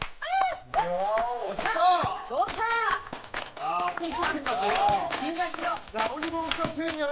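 Scattered clapping from a studio audience on a Korean health variety show, sharp hand claps under steady talk from the hosts over several seconds.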